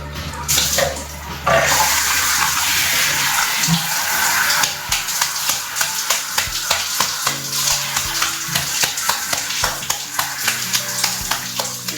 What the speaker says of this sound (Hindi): वो पानी आप डालते जाइए और ऐसे थपथपाइए, जैसे मैं करने जा रहा हूँ।